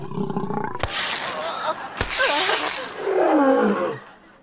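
A lion roars loudly in bursts with deep, rumbling tones, set in the wild on an island off Italy, with sharp impacts breaking between the roars.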